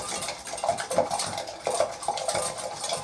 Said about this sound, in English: So you can use a fork or get an egg whisk, or a whisk, and I just whisk it around like that